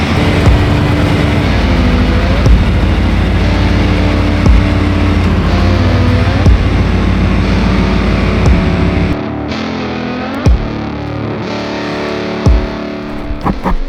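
A 305 V8 engine in an OBS Chevy truck runs with a deep, rough idle that changes pitch as the truck backs out. The rumble is loud and close, then drops in level near the end as the truck moves off.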